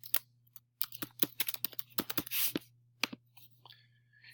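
Someone types a name on a computer keyboard: a burst of close, crisp key clicks in an irregular run, then a pause and a couple of final taps over a low electrical hum.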